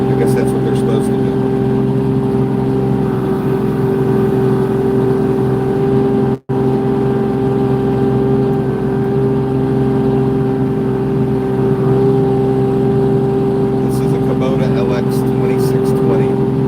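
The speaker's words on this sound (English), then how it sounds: "cab tractor, hydrostatic diesel, four-wheel drive, diesel power." Diesel engine of a Kubota LX2620 hydrostatic four-wheel-drive cab tractor plowing snow in a big snowstorm, a loud steady drone with constant low hum and a brief dropout midway.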